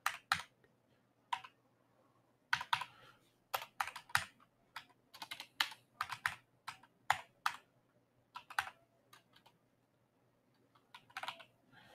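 Typing on a computer keyboard, irregular clusters of crisp close key clicks with brief pauses, steady over twelve seconds with no talking.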